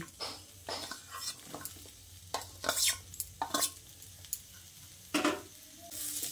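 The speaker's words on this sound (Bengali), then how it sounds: "এবার এখানে ভেজে রাখা আলু ও ডাঁটাগুলো দিয়ে দিচ্ছি" Fried potatoes and drumstick pieces are stirred into spiced masoor lentils in a pan. A spoon scrapes and clinks in uneven bursts over a soft, continuous sizzle, close up and without talk.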